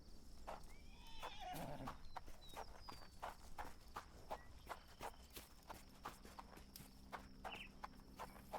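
Horses whinny with a rising, wavering neigh near the start, while hooves clip-clop in a steady, even rhythm throughout, fairly close and clear with no talking.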